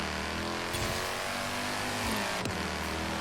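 A Mercedes-AMG C63 BiTurbo drift build in Forza Horizon 3 revs hard and rises in pitch, with quick gear shifts cutting the engine note sharply near the start and again toward the end; loud and close throughout.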